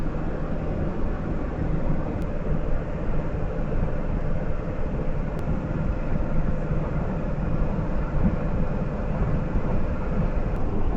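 A vehicle engine pulls steadily at about 2,700 RPM under full boost while driving through snow, giving a continuous loud drone with road noise and no break in the sound.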